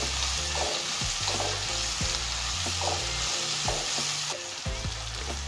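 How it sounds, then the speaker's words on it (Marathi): Vegetables sauté in a hot pan for Maharashtrian masale bhat, a constant loud sizzle broken by rhythmic scraping strokes of a stirring spoon roughly every second, heard up close without talk. "ह्या पण आपल्याला थोडंसं परतून घ्यायचं आहे."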